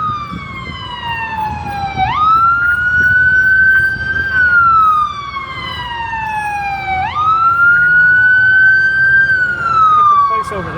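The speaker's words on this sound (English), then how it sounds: "Here comes the ambulance. Ambulance just arrived." An ambulance siren wails loud and close on an urban street, two long rising-and-falling sweeps repeating steadily, with faint background noise beneath.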